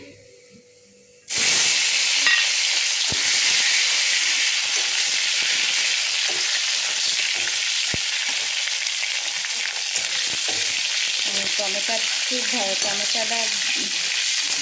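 Chopped tomatoes dropped into hot oil with nigella seeds in a pan for a drumstick and potato curry, a sudden loud burst of sizzling that settles into a steady hiss, with occasional stirring knocks and faint voice near the end.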